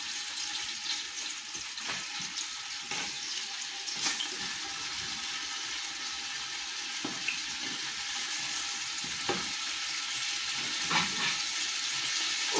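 Meat frying in olive oil with turmeric for a Moroccan couscous, giving a steady, close sizzle and crackle that runs evenly throughout with no talking.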